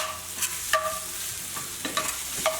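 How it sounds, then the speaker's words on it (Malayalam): Mint, coriander leaves and green chilli being sautéed and stirred in a pan for kizhi biryani, with a soft steady sizzle and several scraping spoon strokes, close and fairly quiet. "ഇത് ഒന്ന് വഴറ്റി കൊടുക്കണം."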